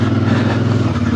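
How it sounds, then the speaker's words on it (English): A CF Moto IBEX 450 motorcycle engine runs steadily at low RPM during an off-road ride, a loud, even, close-up drone with no break. "I'm turning RPMs, these low RPMs."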